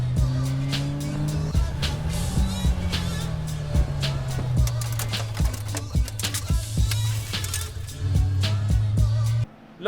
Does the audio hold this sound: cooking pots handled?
no